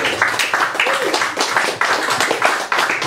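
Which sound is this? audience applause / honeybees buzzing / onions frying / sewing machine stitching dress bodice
audience applause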